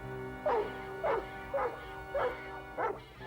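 A cartoon dog in a Smurfs episode barks five times in an evenly spaced, moderately loud series, each bark short and bright against a steady background.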